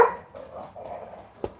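Dogs heard at home during a live golf lesson stream, a faint muffled bark or two in the distance followed by a single sharp bark near the end, no one speaking.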